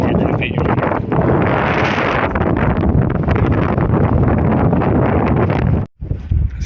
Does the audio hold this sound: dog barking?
no